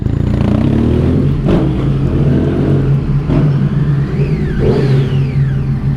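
A motorcycle engine revs inside a tunnel, a loud, close, steady drone with rising and falling pitch sweeps as the throttle opens and eases, booming with echo.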